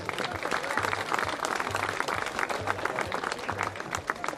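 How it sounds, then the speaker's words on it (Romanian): An audience applauds at a sports event, dense steady clapping from a crowd that carries on for several seconds, with faint voices and a low rhythmic hum underneath. "Vreau să-l aplaudați pentru acest lucru."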